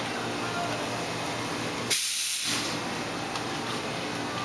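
An espresso machine steam wand, tip buried in milk, hisses steadily and loudly throughout, with a brief sharper burst of airy spray partway through as the milk is stretched and heated.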